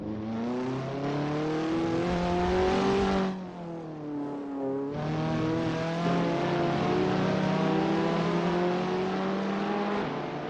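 Race car in the video game Assetto Corsa, its engine whining loudly up through the revs, then a quick gear shift drops the pitch for a moment before it climbs again, alone with no talk.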